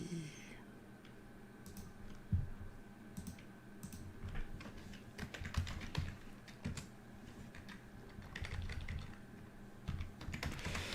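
Typing on a computer keyboard during a live stream: quiet, irregular bursts of clicking keystrokes, some pauses between runs, over a low background hum with a few faint murmurs.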